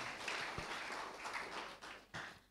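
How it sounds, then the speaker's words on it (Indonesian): A church congregation applauds at a Sunday worship service, a soft, scattered patter of clapping heard at a distance for a couple of seconds. "yuk kasih tepuk tangan dulu buat Tuhan."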